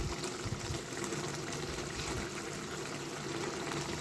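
Water is poured into a pot of vegetable curry, a steady, continuous rushing splash at moderate volume that holds evenly throughout with no talk.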